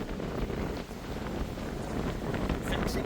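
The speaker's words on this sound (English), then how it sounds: "getting windy again, isn't it?" Wind blows outdoors at an abandoned WW2 missile complex, a steady broadband rush buffeting the microphone for a few seconds with no talk.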